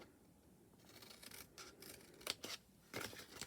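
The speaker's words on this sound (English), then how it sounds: "These are the Stampin' Up snips." Stampin' Up craft snips cutting through paper, several short crisp snipping bursts in a quiet room, close and clear with no talking.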